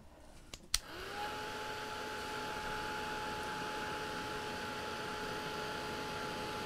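Hair dryer switched on after a couple of clicks, then running as a steady close whoosh with a whine, drying a mixed media monarch butterfly craft.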